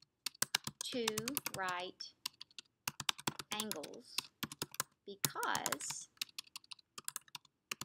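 Rapid clicking keystrokes on a computer keyboard keep going steadily beneath a person who is talking.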